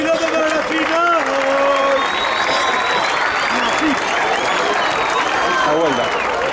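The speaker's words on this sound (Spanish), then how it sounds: "¡Aplauso, Río Quilote, para la final!" A large crowd at the final of a 2-vs-2 freestyle rap battle breaks into dense, loud, continuous applause and cheering. Shouted voices cut through the clapping.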